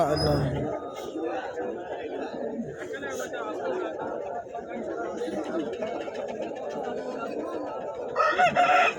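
Roosters crow amid busy crowd chatter and clucking at a poultry market, with people talking throughout and a louder crow breaking through near the end.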